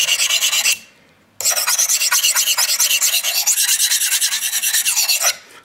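A knife is sharpened freehand on a sharpening stone: steady, loud rasping strokes scraping back and forth in a fast even rhythm, with a short pause before a long continuous run; close up and with no talking.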